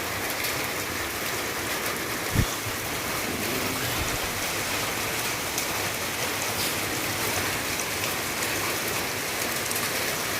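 Steady rain pours down through thick fog, a dense continuous hiss of drops on surfaces with one brief low thump partway through and no voices.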